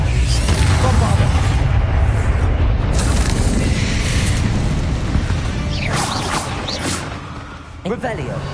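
Bombarda spell blasts in Hogwarts Legacy, a loud, dense wash of booming explosion and crackling debris, with a spoken voice mixed in.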